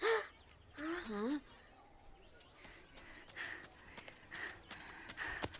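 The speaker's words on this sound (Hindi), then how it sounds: "वहाँ चिड़िया सारा खेत खा रही है" Crows cawing over a crop field, a few loud wavering calls at the start followed by fainter scattered caws and rustling ambience.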